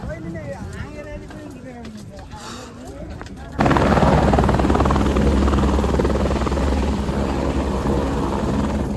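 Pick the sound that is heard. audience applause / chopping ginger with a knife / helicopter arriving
helicopter arriving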